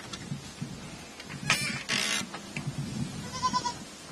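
Goats kept in a pen on an organic farm bleat several times nearby, with short cries scattered over a few seconds against a quiet background.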